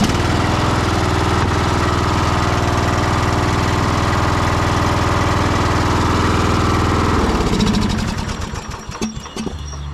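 A Craftsman LT2000 lawn tractor engine runs loud and steady with a droning, vibrating chug for about seven seconds, then cuts out and sputters to a stop.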